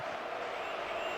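Steady crowd noise from a stadium in the football video game eFootball PES 2026, a continuous roar of fans cheering after a shot on goal, sustained and even throughout.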